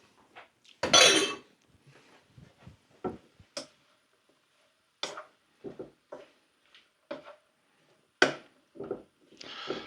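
Mushrooms for a fish pie being stirred in a pan once they have softened, heard as sparse utensil clinks and taps against the pan at an irregular pace, with one louder scraping burst near the start.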